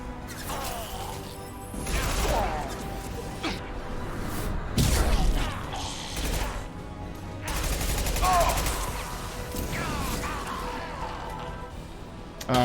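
Rapid bursts of gunfire in a firefight in the video game Mass Effect 2, crackling volleys and sharp impacts repeating in waves, loud and dense, with mechanical clanks mixed in.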